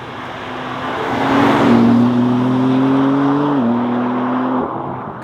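A BMW M3 CS Touring drives with a steady, loud engine drone that swells, holds a sustained pitch, then dips slightly and trails off near the end, with road and wind noise beneath.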